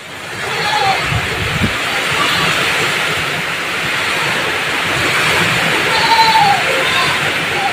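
Rain falling outdoors in a rural setting, a steady broad wash of water noise at moderate loudness, with someone talking over it.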